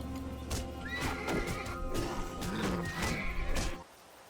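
A horse in the Titan Quest video game neighs loudly in a long whinny, with clip-clopping hooves and game effects beneath, ending abruptly.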